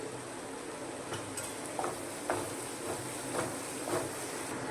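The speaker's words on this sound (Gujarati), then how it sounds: "અને થોડીક વાર માટે સાતળી લઈશું" Spiced gravy with poppy seeds, garam masala and sugar being sautéed in a pan: a soft continuous sizzle with a few distinct scrapes of a spoon stirring against the pan, close and fairly quiet, no talking.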